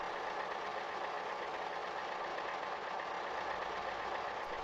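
A tractor engine idling in Farming Simulator 15, a steady, even drone that runs unchanged and alone throughout, with no talk over it.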